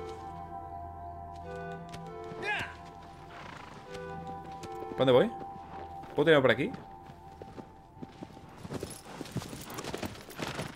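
Horse hooves clip-clopping in the video game Shadow of the Colossus, irregular hoof clops under a Spanish-speaking voice, with loud neighs around the middle and quicker hoofbeats toward the end.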